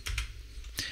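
A few quick keystrokes on a computer keyboard, close and soft, with short clicks spaced unevenly across a brief moment.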